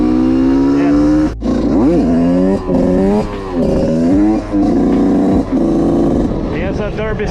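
Derbi Senda motorcycle engine revving hard through crazy wheelies, loud and close with rising and falling pitch sweeps and brief throttle cuts, a voice faintly mixed in.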